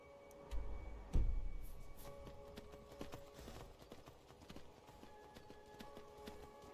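Horse hooves clip-clop in the Skyrim video game, a quiet, irregular patter of hoofbeats after a couple of heavier thuds, faint and alone.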